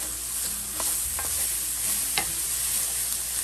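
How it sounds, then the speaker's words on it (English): Onions fry in a pan and are stirred around, a continuous close sizzle broken by a few short scraping strokes of the spoon. "Once we throw in the onions, we're gonna stir them around in there like so."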